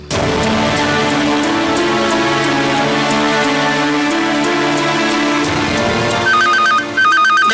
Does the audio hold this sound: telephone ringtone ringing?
yes